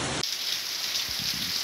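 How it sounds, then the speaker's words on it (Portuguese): Heavy rain pours steadily in Duas Lagoas in Brazil's Northeast during a January downpour, a dense, continuous hiss of drops striking surfaces with faint low thuds underneath. "Boa chuva aqui em Duas Lagoas."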